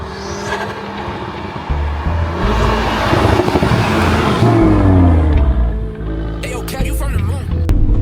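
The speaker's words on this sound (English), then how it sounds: "we're gonna get out now anyway in the 700 brake horsepower RS3 and go and burn some rubber" A 700 bhp big-turbo Stage 3 Audi RS3 pulling away and accelerating, its engine swelling into a loud close roar before easing off, with some background noise near the end.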